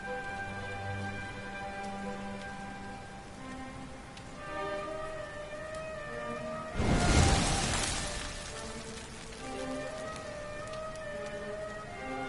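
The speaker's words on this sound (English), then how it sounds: "Looks like the rain's dying down." Steady rain falls in Dragon Quest 11, a continuous soft hiss under a sustained tonal drone and music, with a brief louder swell of downpour midway.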